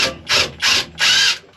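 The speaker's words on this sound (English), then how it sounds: "Got a metric 14 wrench right here." A 14 mm metric wrench ratchets on bumper bracket bolts, four quick rasping bursts of clicking, close and loud, with short pauses between them.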